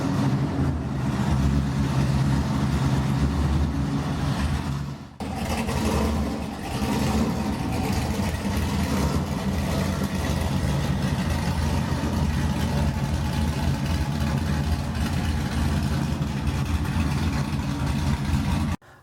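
A high-power Corvette of over 1300 wheel horsepower idles loudly and close at a dyno session, a deep continuous rumble with a brief dip midway and a sudden cut at the end.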